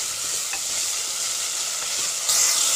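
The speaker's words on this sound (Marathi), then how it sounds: "2 ते 3 मिनटं छान आलं लसणाची पेस्ट परतून घ्यायची." Ginger garlic paste sautéing in a pan over softened tomatoes, a steady close sizzle with light stirring scrapes, turning a little louder and hissier near the end.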